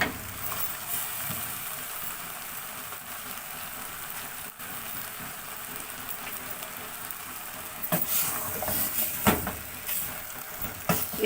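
Cabbage and minced meat filling for samosas dry-roasts in a pan without ghee, giving a steady close sizzle with occasional louder stirring scrapes near the end.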